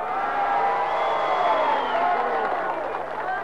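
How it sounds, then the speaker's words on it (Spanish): A large outdoor crowd at a rally in Cochabamba, Bolivia, applauds and cheers loudly for President Evo Morales. Clapping and whoops are heard under raised voices and shouting, steady and full for several seconds. "le demos fuerte aplauso porque mañana cumple 1 año más de vida nuestro presidente"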